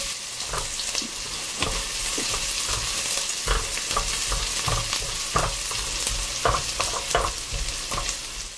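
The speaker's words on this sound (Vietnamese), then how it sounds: "Đợi cho dầu nóng thì mình cho hành tím, tỏi và gừng vào phi cho thơm lên." Shallots, garlic and ginger fry in hot oil in a cooking pot for braised pork, giving a steady, close, loud sizzle broken by repeated stirring scrapes, with no talking.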